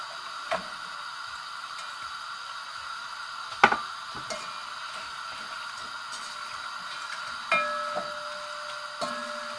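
Chopped onions sizzle in hot oil in a cooking pan, a steady close hiss broken by scattered small ticks and a few sharper pops, with no voices.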